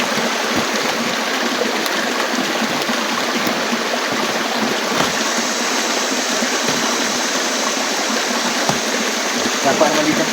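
Water from a small forest stream flows in a steady, broadband rush that continues unbroken throughout, close by and moderately loud, with voices faintly present underneath.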